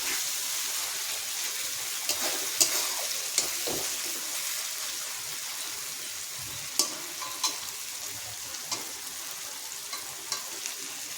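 Spices fry in oil in a pan as they are stirred, with a bright, steady hiss and occasional soft scrapes and taps of a utensil, close and continuous with no talking.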